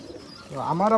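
Pigeons kept in a home loft cooing close by, one soft throaty rising coo that swells in the last half second over a quiet background.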